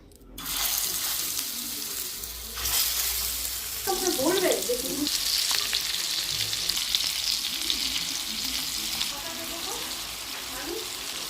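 White cooking oil heating on a large tawa gives a broad, steady sizzle and hiss that holds throughout, close by, with brief clinks and rustles over it.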